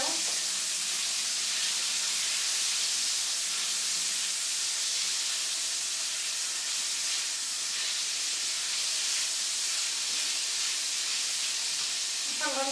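Chicken sizzles in a hot pan with a constant, loud hiss and crackle that runs steadily throughout, with faint spatters popping through.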